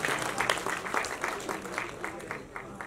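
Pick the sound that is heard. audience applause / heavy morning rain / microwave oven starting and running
audience applause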